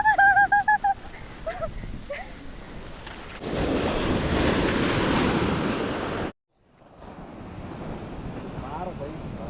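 After a few brief honking calls, a large ocean wave surges and crashes in a roaring rush on Marari Beach in Alleppey, Kerala, then gives way to softer surf and wind.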